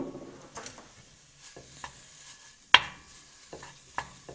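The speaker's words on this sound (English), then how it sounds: "what I'm adding here is a half a pound of chopped up bacon" Half a pound of chopped bacon sizzles softly in a hot pot while a utensil stirs and breaks it up, giving intermittent clacks and scrapes over a quiet frying hiss.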